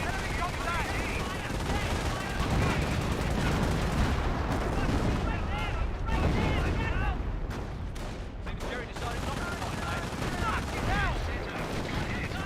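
An artillery barrage in Company of Heroes, a World War II strategy game, rumbles on in a dense, continuous wash of booming explosions and crackling gunfire for the whole stretch, loud and unbroken.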